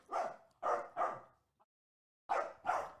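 A playing puppy gives a series of short, sharp yips and barks close by, three in quick succession, a pause, then two more.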